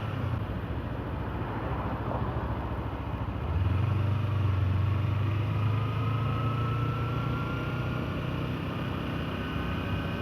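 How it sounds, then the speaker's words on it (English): A 2013 Kawasaki Ninja 300 rides along with a steady engine drone and wind rush, the low engine tone rising and holding stronger after a few seconds, continuous and fairly close with no talking. "my bike is a 2013 Kawasaki Ninja 300"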